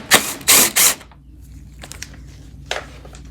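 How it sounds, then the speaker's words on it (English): A ratchet with a 10mm socket turns a bolt on a 2022–2023 Honda Civic fender, giving three quick loud buzzing clicks up close, followed by faint tool handling. "We're going to need a 10mm socket to take that out."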